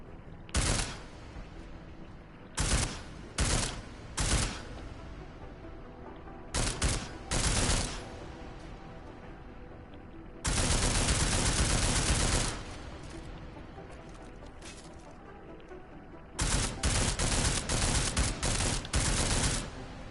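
Automatic weapon fire in Deus Ex: Mankind Divided, several loud bursts of rapid shots separated by pauses, including one long sustained burst, close and dominant with no talk.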